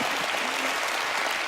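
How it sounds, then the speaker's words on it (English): Studio audience applause on the Penn & Teller: Fool Us magic show, a brief steady wash of many hands clapping at even loudness, with no voices over it. "This applause is for you."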